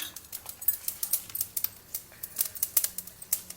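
Mustard seeds and urad dal hitting hot oil in a pan, a quick run of sharp crackling pops and sizzle spitting in an irregular rhythm, close and moderately loud.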